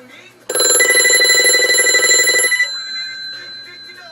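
A made-in-USA CortelCo 2500 touch-tone desk telephone rings with its mechanical bell, a loud steady trill lasting about two seconds, then a fading resonant decay with a faint voice after.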